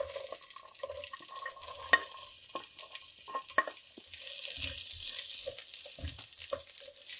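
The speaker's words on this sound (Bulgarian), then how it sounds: "Сега леко ще задуша зеленчуците." Onion, carrots and celery cut to a medium size sauté gently in a pan for osso buco, a quiet low sizzle with sparse stirring clicks and soft scrapes.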